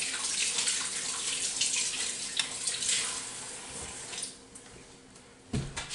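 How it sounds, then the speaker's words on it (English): Hands being washed under a running kitchen tap while making a green grilled cheese, a steady broadband rush of flowing water that fills most of the clip, dropping off near the end before a brief final splash. "I'm washing my hands throughout the process."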